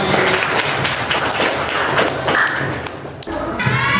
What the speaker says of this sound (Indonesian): Oke, tepuk tangan Bapak.